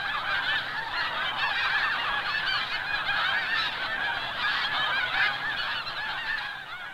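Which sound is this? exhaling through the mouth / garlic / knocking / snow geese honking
snow geese honking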